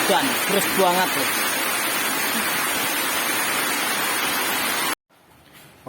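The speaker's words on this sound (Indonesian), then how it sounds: "manggon pas gawe-gawean malah hujan," Steady rain pouring during a wedding reception, a dense continuous hiss with brief speech early on, cutting off abruptly near the end into near silence.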